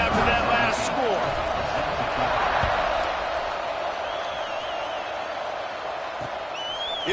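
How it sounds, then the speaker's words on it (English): A stadium crowd in an American football video game buzzes continuously, a dense broad roar that holds steady throughout with a few faint whoops and thuds rising from the mass. "this crowd is buzzing after that last score"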